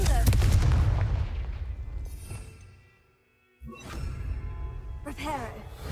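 A Confringo fire spell explodes in Hogwarts Legacy with a loud opening boom and long crackling decay. After about half a second of near silence, further bursts and whooshing effects follow.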